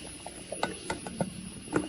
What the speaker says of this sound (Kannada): ಇವಾಗ ಒಂದು ಲಿಡ್ ಕ್ಲೋಸ್ ಮಾಡಿ, ಕುಕ್ಕರ್ದು ಲಿಡ್ ಕ್ಲೋಸ್ ಮಾಡಿ